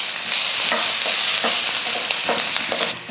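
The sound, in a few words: chillies, ginger and garlic frying in a pan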